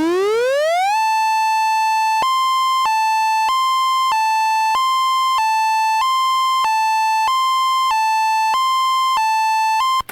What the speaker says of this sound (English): the alternating wail siren starts by climbing in pitch, and then the alternating notes start